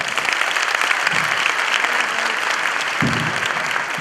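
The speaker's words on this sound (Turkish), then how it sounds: "Vay değerli başkan geliyor alkışlarla" Audience applause for a host arriving on stage at a Düzce University career club event, a dense, steady clapping wash that stays loud throughout, with brief low thumps near the end.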